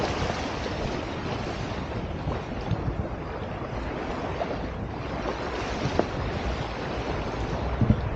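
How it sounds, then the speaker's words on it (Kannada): Ocean waves at the point where the Kaveri river meets the sea, a steady, full wash of surf mixed with wind buffeting the microphone, with no voices. "ನಮ್ಮ ಕಾವೇರಿ ನದಿ, ಕಾವೇರಿ ತಾಯಿ ಸಮುದ್ರಕ್ಕೆ ಸೇರುವಂತಹ ಎಂಡ್ ಪಾಯಿಂಟಲ್ಲಿ ನಾನು ನಿಂತಿದ್ದೀನಿ"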